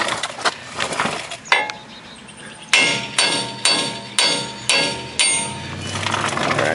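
A hammer taps out a broken wheel stud on a 2000 Toyota Corolla: about seven sharp, ringing metal strikes, loud and close, spaced roughly half a second apart after a few lighter earlier taps.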